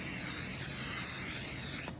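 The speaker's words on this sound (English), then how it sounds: "I want to spray the top of that just so they make sure they get extra crispy" Cooking spray hisses over the top of a chicken tater tot casserole before air frying, one continuous close bright spray of about two seconds, then a brief stop.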